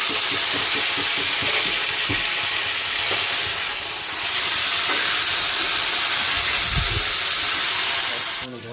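Sliced potatoes fry with onions in a hot pan, a loud continuous sizzle and hiss with occasional stirring scrapes and faint clatter nearby.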